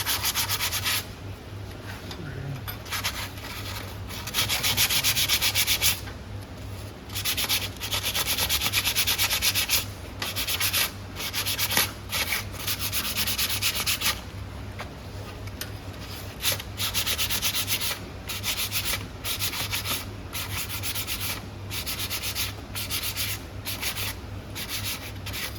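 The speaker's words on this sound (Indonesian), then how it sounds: "Ini silakan diamplas." Sanding a metal workpiece for coating, a steady abrasive rubbing in repeated strokes, loud and close, continuing without pause for the whole stretch.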